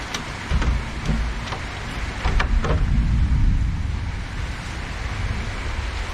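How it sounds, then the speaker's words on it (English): Heavy rain drums on a tin roof as a dense, continuous hiss and patter that swells louder partway through, with a few sharper knocks early on. "One thing about these tin roofs, you get pretty loud when the rain starts coming down."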